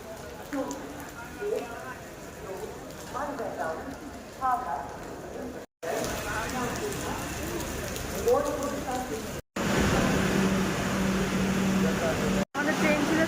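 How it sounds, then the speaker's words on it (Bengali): Heavy rain pouring in Malda, a steady dense wash of rainfall that runs throughout, loud and close, briefly cut by short dropouts. "মুষলধারে বৃষ্টি পড়ছে।"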